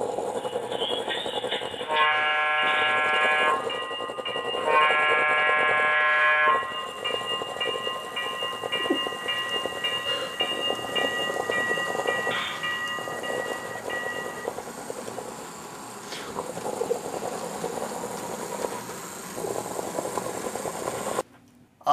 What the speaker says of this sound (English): We have aerial footage from the train departing from Istanbul